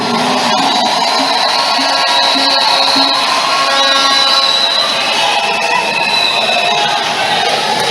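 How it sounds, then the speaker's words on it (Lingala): Dense, steady clapping from a large crowd fills the whole stretch, with singing voices and cheers woven through the noise. "Applaudissez le Seigneur."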